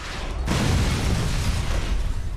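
A heavy, booming explosion from the video game The Incredible Hulk: Ultimate Destruction bursts in suddenly and leaves a dense, roaring rumble that holds loud and steady to the end.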